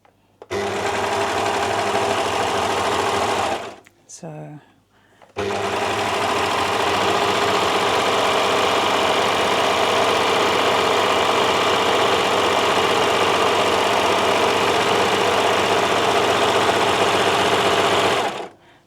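A serger overlocker sewing machine runs fast and loud up close, a dense mechanical whir that pauses briefly for about a second and a half near the start, then continues steadily until it stops at the end.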